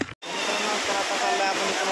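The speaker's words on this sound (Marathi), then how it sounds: "दगडावरती आणि वरून पाणी येतं मित्रांनो" Water spilling down over large rocks at a Lonavala tourist spot, a steady broadband rush that stays loud and constant after a brief dropout at the start, with no talk over it.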